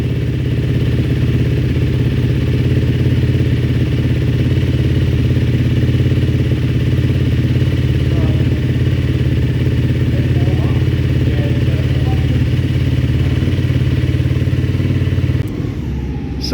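A Honda CRF300L with a CBR300 clutch conversion starts and idles steadily, a loud, close single-cylinder engine burble that runs evenly before cutting out near the end.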